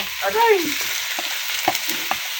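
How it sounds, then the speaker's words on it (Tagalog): Banana heart sautéed and stirred in a pan, a soft sizzle with a few scattered scraping clicks from the utensil, close by and fairly quiet. "Tapos gisa, ihalo na itong puso ng saging."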